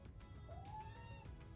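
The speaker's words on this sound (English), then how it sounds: "sorry, this cat is into everything right now." A house cat gives a single rising, drawn-out meow, clear and fairly close over a low background hum.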